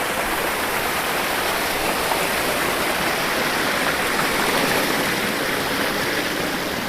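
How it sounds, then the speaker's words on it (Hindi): A natural waterfall pours over rocks in a steady, unbroken rush of water, loud and close, with no voices or other sounds over it. "देखिए कितना सुंदर प्राकृतिक झरना चल रहा है।"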